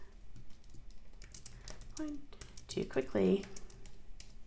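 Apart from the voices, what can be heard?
typing on a computer keyboard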